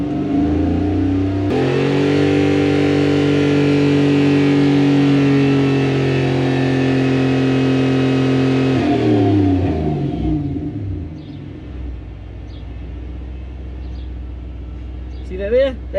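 A Toyota Hilux Xtra Cab fitted with a 1UZ V8 starts and revs loudly up close, holding a rising, steady roar for several seconds before dropping back to a lower rumble while a person talks nearby.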